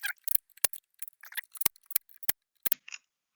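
Screws being snugged up on an RV door lock, heard as a close series of sharp, irregular clicks and short scraping ticks in otherwise quiet surroundings.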